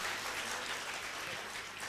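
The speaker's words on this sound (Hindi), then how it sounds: "एक बार उनके लिए भी जोरदार तालियां हो जाए." Steady applause from an audience at a film music launch, a dense, uniform patter of many clapping hands throughout, fairly distant and without speech.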